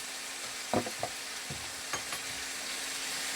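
A couple of pieces of hot pepper drop into a pan for Filipino chicken adobo, giving a faint, even sizzle broken by a few soft knocks and scrapes, quiet and close, with nobody talking.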